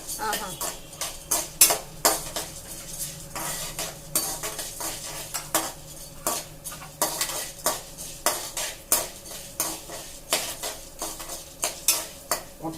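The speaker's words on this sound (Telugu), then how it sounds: "ఒకదాని తర్వాత ఒకటి వేసుకొని వేయించుకోవాలి" Spices roasted one after another in a pan for curry leaf spice powder, with a spoon clattering and scraping against metal in a brisk, repeated rhythm over a faint sizzle.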